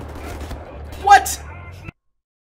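Shotgun blasts in Wolfenstein: The New Order, a few punchy bursts in quick succession followed by a louder crack, then abrupt silence.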